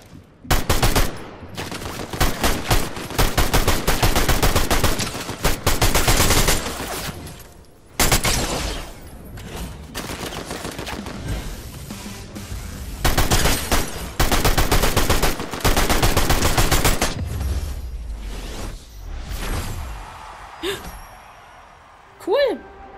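Dense, loud bursts of automatic gunfire in the video game Fortnite rattle almost continuously with brief pauses, fading out toward the end as someone sighs and gasps.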